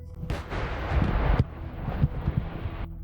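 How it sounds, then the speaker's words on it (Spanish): A few close, heavy explosions with deep booming impacts and rumbling aftermath, loud and rough, with wind buffeting the microphone. "Las explosiones cercanas ponen un poco nervioso al camarógrafo."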